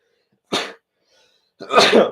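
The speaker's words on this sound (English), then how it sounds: "sneezed." Two sharp, close sneezes from one person during a casual chat about an MMA fight night, the first short and the second longer and louder, with silence between them.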